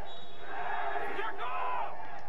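Bandy fans roar and chant for Stroitel (Syktyvkar) against Kuzbass (Kemerovo), a dense, continuous wall of crowd noise from a packed arena that stays loud throughout.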